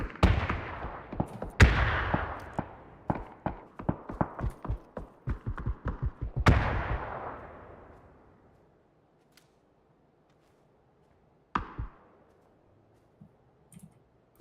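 Rapid bursts of gunfire and sharp explosions in a shooter video game, dense cracking shots for several seconds with two loud blasts, then fading to near silence with a final isolated shot.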